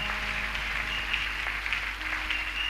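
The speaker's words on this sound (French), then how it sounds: "Est-ce qu'on peut acclamer très fort pour le Seigneur?" A church congregation applauding and cheering for the Lord, a dense, steady wash of clapping and crowd noise that holds at the same level throughout.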